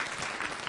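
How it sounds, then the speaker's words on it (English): Brief burst of applause from attendees at a community planning meeting, a steady wash of clapping heard for a moment at moderate distance. "Give yourselves another round of applause."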